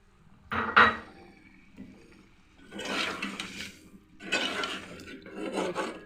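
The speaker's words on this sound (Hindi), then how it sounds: "अभी तो ये मसाला अच्छे से भून रहा है।" Masala frying in a pan for a spicy egg and potato curry: three rough bursts of spatula scraping over a soft sizzle, close and moderately loud with quiet gaps between them.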